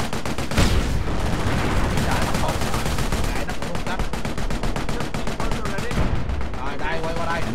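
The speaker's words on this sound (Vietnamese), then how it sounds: "Rồi đây gọi pháo ngay." Artillery called in during a World War II battle in the game Company of Heroes pounds the field with loud, rapid bursts of explosions and gunfire, a dense continuous barrage with faint battlefield voices beneath.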